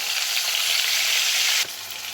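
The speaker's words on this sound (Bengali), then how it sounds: "রসুন বাটা আদা বাটা খুব ভালোভাবে এগুলো সব ভেজে নেব" Onion, garlic and ginger paste frying in oil for a chickpea dish, a dense, even sizzle that dips suddenly near the end after a single knock, then continues more quietly.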